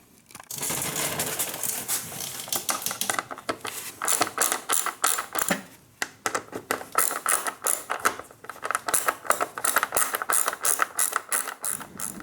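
Rapid ratcheting clicks and metallic turning from a hand tool tightening screws on a charging port mount on a 2022 Honda Grom, close and dense with irregular pauses.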